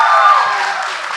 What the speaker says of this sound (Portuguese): eu peço um aplauso